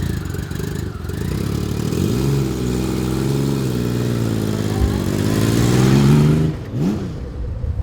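A 1997 Honda Valkyrie GL1500 engine idles with a deep, steady rumble, revving up and easing back a few times, close and loud, with no talking.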